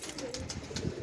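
A pigeon coos softly amid dense background noise in a short, faint stretch near a loft of paired pigeons.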